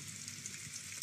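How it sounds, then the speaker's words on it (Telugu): Cartoon rain falling steadily, a continuous soft hiss of drops heard alone without any voices. "ఈ వాన త్వరగా ఆగిపోతే బాగుంది"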